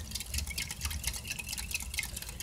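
Melted wax being stirred with fragrance oil poured in, soft close wet swishes and faint drips in a quiet, steady rhythm, with no talking.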